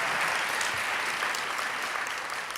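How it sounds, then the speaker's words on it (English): An audience bursts into sustained, dense applause at a 2020 poetry performance, many hands clapping loudly and evenly throughout with no break. "Can you all clap just one more time"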